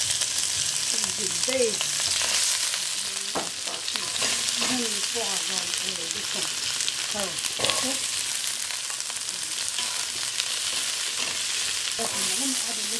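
Ginger, garlic and onion fry in a pan with a steady, loud sizzle while a spoon stirs and scrapes through it, and a voice talks briefly near the start.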